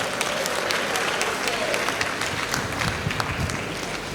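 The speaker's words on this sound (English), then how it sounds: "Clap for yourselves." Dense, sustained applause from a large audience at a matric lecture, loud and continuous throughout with a faint voice briefly audible beneath the clapping.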